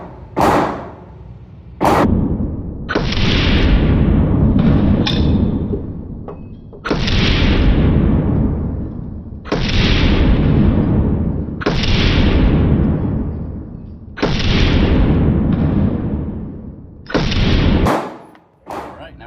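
Pistol shots from a Springfield Prodigy Comp fired at a range, about six loud, close booms spaced a couple of seconds apart, each ringing out with a decaying tail.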